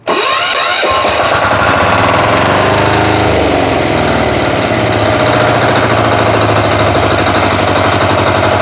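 A walk-behind tractor engine catches after a brief start and then runs in a loud, close, steady chugging drone with a fast rhythmic beat throughout.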